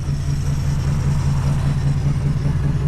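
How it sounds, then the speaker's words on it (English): V8-style idle of a 1963 Plymouth Belvedere engine revived after sitting since 1978, a steady low throbbing hum close by with an even pulse and no revving. "she's sitting here idling like she was just running yesterday"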